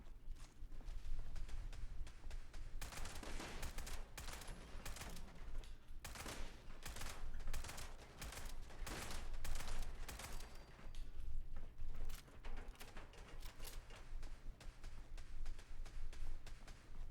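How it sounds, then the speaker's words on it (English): Rapid bursts of gunfire from an enemy in Fallout 76, sharp cracks and rattling volleys repeating densely through the whole stretch over a steady low rumble of game ambience. "There is something shooting at me from this side."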